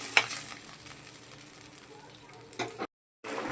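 Egg fritters dropped one by one into a pan and frying with a soft, quiet sizzle, a couple of louder clatters near the end before a brief drop to silence.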